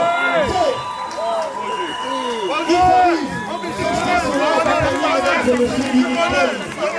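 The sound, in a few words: wedding crowd cheering and making noise for the couple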